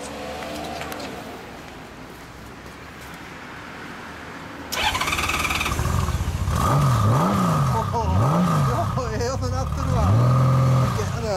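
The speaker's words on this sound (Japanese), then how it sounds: "シャフの GL エンジンを聞かせてもらおうかな。" Honda Goldwing GL1500 motorcycle engine starts up and idles nearby, a steady low rumble with squealing pitch swoops on top, following quieter background noise.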